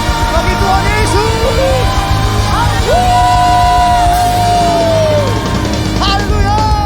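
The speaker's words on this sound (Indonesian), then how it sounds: "Berikan tepuk tangan sorak-sorai bagi Tuhan Yesus" A church congregation cheers and whoops loudly through the whole stretch, a dense crowd roar with a long sustained tone held above it.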